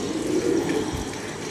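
Female pigeons coo close by in a low, continuous, throaty murmur with no talk over it.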